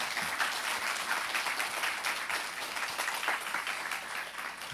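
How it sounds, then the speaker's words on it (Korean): Sustained applause from a church congregation during a Sunday worship service, dense steady clapping from many hands filling the room without a break. "우리 시간 우리 하나님께 큰 감사의 영광의 박수 한번 올려드릴까요?"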